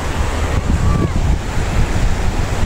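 A steady rush of a gentle, shallow river current, broadband and continuous, with wind buffeting the microphone throughout.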